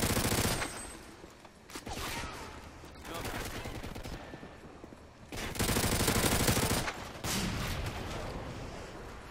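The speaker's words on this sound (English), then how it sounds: "Got my own dang teammate trying to shoot at me, man." Machine gun fire in Call of Duty MW3 rattles in dense, loud bursts, with sharp gunshots breaking out in separate volleys and short lulls between them.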